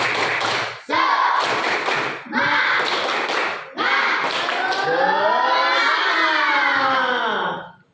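Rhythmic tepuk semangat clapping by a classroom group, several sharp clapped phrases separated by brief gaps, with voices chanting along and finishing in a rising, sustained group shout.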